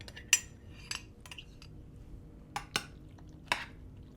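A spoon stirs turkey meatball pasta through sauce in a baking dish, giving a few sharp, scattered clinks and scrapes against the dish amid quiet pauses.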